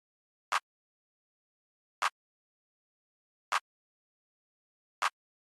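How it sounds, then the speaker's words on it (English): A programmed four-step clap in an FL Studio trap beat: four sharp, identical claps evenly spaced about one and a half seconds apart, crisp and dry against silence. "I also got this 4-step clap going."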